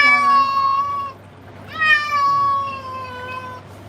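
A short-haired cat being groomed meows twice, loud and close, each cry drawn out and sliding downward, with a short pause between them over a quiet background.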